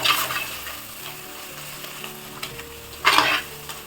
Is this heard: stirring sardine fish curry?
yes